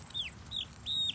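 Chickens and roosters in a coop give three short, close clucking calls in quick succession, fairly faint against light background noise.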